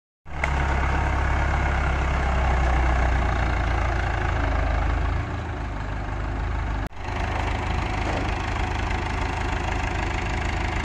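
Farm tractor engine idling, ready for silage work, a loud, close, steady diesel rumble with a slight knock that eases a little midway and keeps running throughout, no talk.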